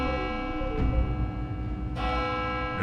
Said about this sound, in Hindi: घंटी बजी।